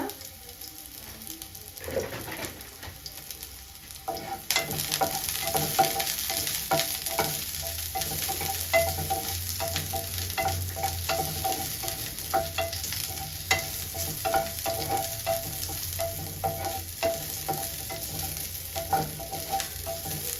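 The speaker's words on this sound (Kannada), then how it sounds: "ಒಂದೊಂದೇ ಹಾಕಿ ಚೆನ್ನಾಗಿ ಹುರ್ಕೊಳ್ಳೋಣ ಇವಾಗ" Onion and tomato fry in a pan for a chicken curry. After a few quieter seconds, a loud, continuous sizzle begins, broken up by repeated scraping stirs of a spoon against the pan. No one speaks.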